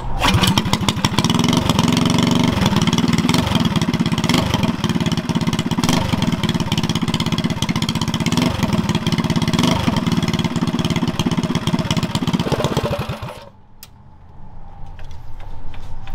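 A Tillotson 212 small engine with a freshly adjusted carburetor runs loud and close with a steady rapid chug, then drops suddenly in level and settles into a quieter idle near the end.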